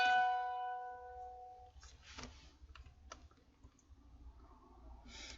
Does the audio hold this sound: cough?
no